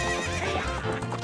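Galloping hooves and a horse neigh from the video game Ocarina of Time, a steady clip-clop rhythm with whinnying, loud and close, with music or game sounds underneath and no talk.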